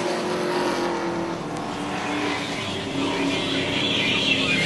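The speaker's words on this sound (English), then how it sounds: "Top two trucks putting a lap on the 28 of Michael LaPlante as they go down into turn one." Race trucks on the oval at Charlotte roar past in a continuous loud engine drone, with the sound swelling and shifting as the pack heads down into turn one.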